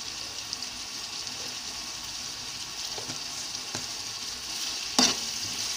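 Chicken curry with turmeric frying in a pan at home, a steady close sizzle with occasional scraping stir clicks and one sharper clatter near the end, no voices.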